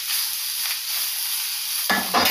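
Vegetables hit a pan of frying cumin with a continuous close sizzle, and a brief clatter of stirring near the end.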